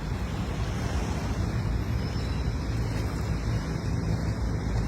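Waves wash onto the shore of Dolomite Beach on Manila Bay as a steady, dense roar mixed with wind buffeting the microphone, continuous and loud without distinct breaks.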